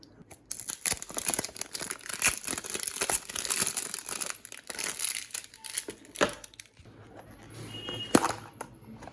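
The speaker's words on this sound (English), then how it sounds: "there's a lot of plastic to get through" Plastic packaging on a GMS Pyraminx puzzle is torn and peeled away, giving close crinkling and crackling in uneven bursts with brief pauses and a sharp snap near the end.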